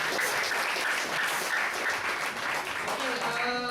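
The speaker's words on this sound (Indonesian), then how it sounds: "kasih tepuk tangan untuk Pak Bibi" An audience applauds at a gathering, the clapping steady and fairly distant, and a voice speaks faintly over it near the end.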